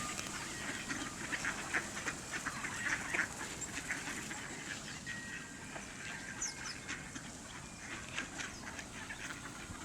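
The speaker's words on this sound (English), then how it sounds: "Loads of ducks, loads of birds." Mallard ducks quack on the Concord River during a snowstorm, a busy flock calling in overlapping bursts over steady broadband outdoor noise, fairly near and continuous.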